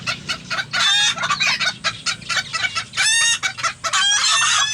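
Serama chickens cluck and squawk close by in loud, busy bursts with brief gaps, several birds calling over one another.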